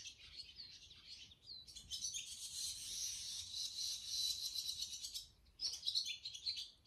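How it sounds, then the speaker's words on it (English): Small birds chirping inside a barn: bursts of high, rapid twittering and tweets, fairly faint and close, one long run of calls then a short pause before more chirps, no talking. "The birds just found this barn to be their new home."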